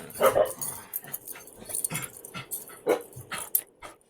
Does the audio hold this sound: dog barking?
yes